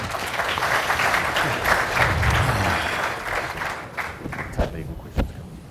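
An audience applauds to welcome panelists at a panel discussion, sustained clapping that fades over several seconds, with a few thumps and footsteps as people move about.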